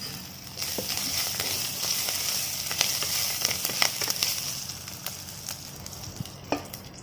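Onions fry in hot oil until browned, a moderate crackling sizzle with scattered pops and light stirring clicks, heard close and steady without any talking.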